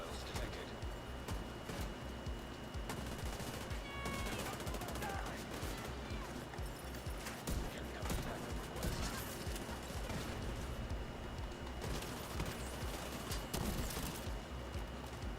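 Gunfire in The Division 2 with a point-blank .50 caliber build sounds as dense, steady shooting and impacts across the whole stretch, with game effects mixed in and no break.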